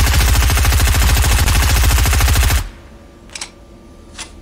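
Rapid automatic gunfire from the video game Fortnite rattles loudly for about two and a half seconds, then stops, followed by a couple of faint distant shots.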